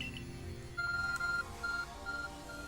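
A smartphone in Pokemon Legends: Arceus dials with a short series of steady electronic tones, the beeps spaced unevenly over a quiet musical background.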